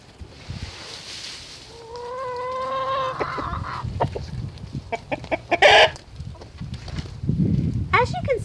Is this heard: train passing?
no